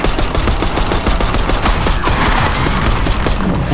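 Rapid automatic gunfire in the Call of Duty Black Ops 6 video game, a dense, loud, continuous burst of close shots filling the whole stretch with no talk over it.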